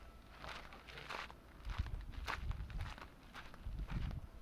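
Footsteps crunch along at a steady walking pace, fairly close, with faint rustling between steps and no talking.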